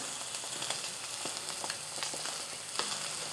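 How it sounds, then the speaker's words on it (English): Tofu fries in a cast iron pan with a continuous close sizzle broken by sharp little pops and crackles scattered throughout. "Okay, after 5 minutes, we're gonna flip them over, and they shouldn't be sticking."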